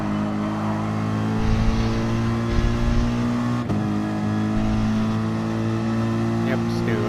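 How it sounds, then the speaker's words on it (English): A Porsche race car in Gran Turismo Sport drones past with a steady engine note that holds loud throughout, a brief shift or bump midway, with the engine tone continuing close and constant. "You got a Porsche on your left."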